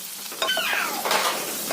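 Cabbage, onion, garlic and chicken frying in oil for a home-made chicken soup, giving a close, steady sizzle with stirring scrapes over it for under two seconds.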